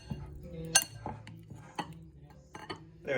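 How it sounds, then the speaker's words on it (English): Tofu being stirred through cornstarch in a bowl, with a run of light clinks and scrapes from a utensil against the bowl, one sharp clink standing out early, close and fairly quiet. "And then I'm going to stir the tofu all around in that."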